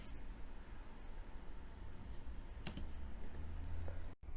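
Typing on a computer keyboard while writing Python code, a steady stream of soft close key clicks over a constant background hiss, with a couple of sharper taps near the middle.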